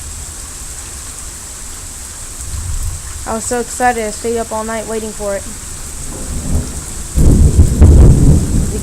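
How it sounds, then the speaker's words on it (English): Morning thunderstorm in Texas with steady, heavy rain and loud thunder. The rolling rumble swells near the end while a person talks over the downpour. "As you can see, it's thundering very loud, if you can hear it well."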